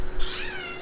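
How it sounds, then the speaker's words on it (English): Domestic cat giving a single short meow, close and clear over a faint low hum in a quiet indoor room. "Okay, that's my cat. It's going meow."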